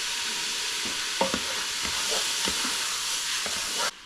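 Meat browning in a pot for Japanese curry gives a loud, steady sizzle, with scraping stirs breaking through now and then before it cuts off abruptly near the end.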